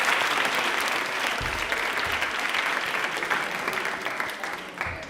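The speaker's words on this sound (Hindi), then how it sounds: "तालियां एक बार जोरदार वापस से बजा दीजिए" Steady, dense applause from an audience at an Indian Railways quiz event, many hands clapping together for about five seconds with a faint voice briefly audible underneath.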